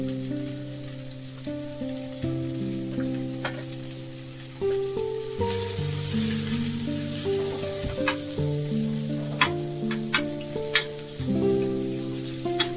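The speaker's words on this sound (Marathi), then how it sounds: "मसाला आपला भाजलाय" Masala with garlic and ginger sizzling steadily in a hot pan, a continuous crackle with small pops, while soft music plays underneath.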